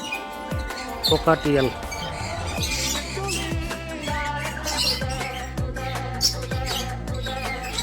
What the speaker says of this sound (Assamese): বাগৰিগড়, পকাটিয়েল,